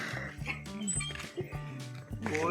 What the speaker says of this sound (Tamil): அங்கே நாய் இருக்கு.